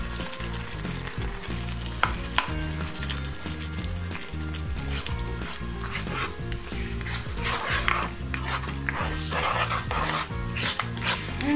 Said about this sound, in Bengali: মশলাগুলোকে ভালোভাবে কষিয়ে নিচ্ছি ভিউয়ার্স।